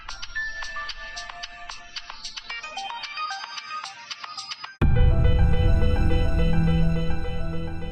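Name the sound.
phone ringtone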